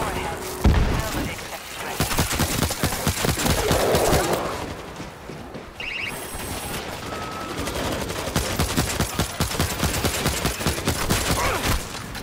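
A sentry gun in the World War Z video game fires dense rapid bursts of automatic gunfire, loud and nearly continuous, mixed with other game shots and thuds, with people talking beneath.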